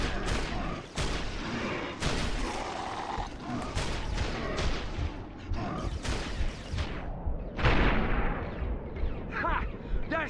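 Sniper rifle shots and other gunfire in Resistance: Fall of Man, sharp loud reports recurring amid a dense, noisy battle mix, with someone talking over parts of it.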